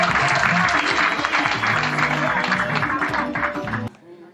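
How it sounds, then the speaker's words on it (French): A crowd at a gathering in Gagnoa claps loudly and steadily for the chief of a delegation. The applause cuts off abruptly near the end. "Je vous demande d'acclamer le chef de délégation."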